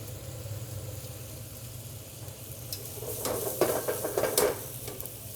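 Salmon cooking in a pan, a soft steady sizzle that swells into louder crackling and spitting bursts toward the end, fairly quiet, with low background rumble and no speech.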